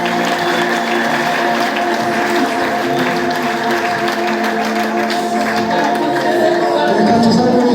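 A Rwandan church congregation applauds loudly at a worship service, a dense, continuous wash of clapping that holds steady throughout, mixed with a sustained tonal hum.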